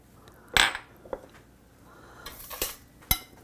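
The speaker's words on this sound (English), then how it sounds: "So I'm going to break that in 2, put it right here in my pot" A corn cob snapped in two and dropped into a cooking pot, heard as a sharp crack and a few close clunks and knocks against the pot, with quiet pauses between them.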